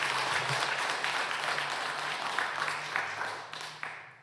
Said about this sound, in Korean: 우리 축복의 박수 하겠습니다.